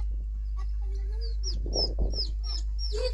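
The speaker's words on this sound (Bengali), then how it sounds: "এই তো এগুলো আমার কাকির মুরগি। অনেক মুরগি আছে বাড়িতে।" Hens of a village household cluck and chirp at close range over a steady low hum, with bird calls growing busier in the second half.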